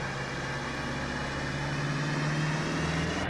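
An IVECO Daily 70C18 chassis carrying a Morelo Palace 85 L motorhome runs steadily on the road, a constant engine drone with a low hum slowly rising in pitch as it pulls through the gears.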